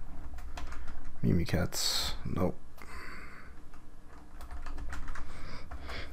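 Steady clicking on a computer keyboard runs throughout while someone talks over it, the keystrokes close and moderately loud.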